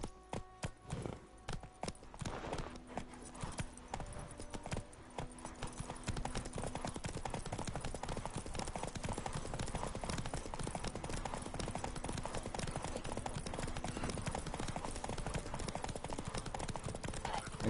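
Roach, a horse in The Witcher 3, breaks from a few scattered hoof steps into a continuous fast gallop, hoofbeats drumming steadily and close for a long stretch with no one speaking.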